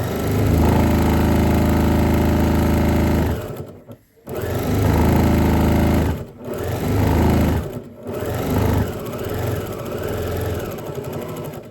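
A sewing machine stitches a one-piece fabric bag in loud, close bursts of fast mechanical whirring, stopping briefly three times before starting up again.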